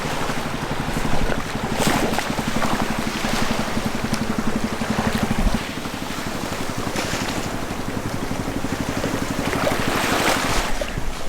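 An old fisherman's putt-putt motor boat passes near a sailboat off Misool, Raja Ampat, Indonesia, its low steady chugging running throughout under wind buffeting and wave wash.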